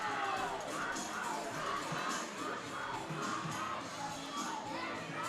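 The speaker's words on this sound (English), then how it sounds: "And the crowd of Harleton is getting into it as well" A crowd at a high school baseball playoff game between Harleton and Douglass cheers and yells, with a mix of shouting voices and whoops rising and falling across the clip at a moderate distance.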